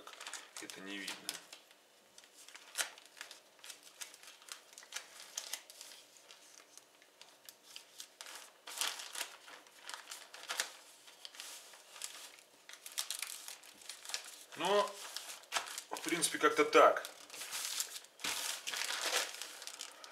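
A plastic mailing package rustles and crinkles in scattered bursts as it is folded over, close by and fairly soft, with someone talking throughout.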